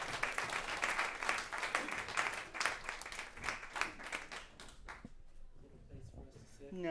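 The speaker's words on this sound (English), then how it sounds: "give a round of applause for this excellent panel." Audience applause for a panel at a live climate night event, a sustained burst of clapping from a room of people that tapers off, followed by faint stage sounds.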